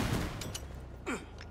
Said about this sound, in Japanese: 爆発、小爆発物が飛んでってるので